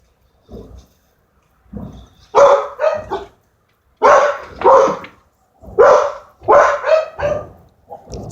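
Several dogs bark in short bursts and clusters at close range, loud, with brief pauses between volleys and no talk over them.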